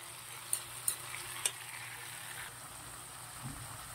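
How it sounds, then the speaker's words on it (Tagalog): Sautéed string beans (ginisang batong) sizzle softly in a hot pan, with a steady low frying hiss and a few brief sharp clicks of stirring near the start, no voices. "Malapit na pong maluto ang ating ginisang batong."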